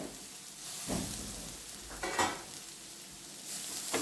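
Matki bhaji with tomato and coriander stirred and sautéing in a pan, with a steady soft sizzle and a few louder stirring scrapes, close by.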